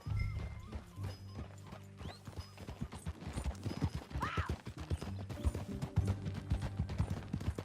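Rhythmic clip-clop of horse hooves at a steady trot over a busy Red Dead Redemption 2 game soundscape, with a brief horse whinny partway through.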